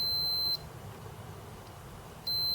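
A multimeter in continuity mode beeps during repair work on a Commodore Amiga 2000 motherboard: two steady, high-pitched electronic tones, one at the start and one at the end, separated by a quiet stretch of low background hum.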